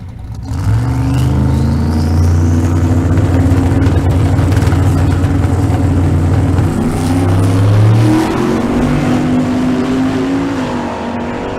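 Drag race cars running down the quarter-mile strip at a Kearney, Nebraska race event, a loud roaring engine pass that builds and sustains for several seconds before fading slightly as the car pulls away.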